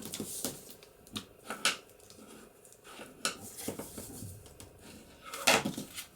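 Paper is folded and creased by hand in several crisp crinkles and taps, soft and close, with quiet rustling between the sharper handling sounds.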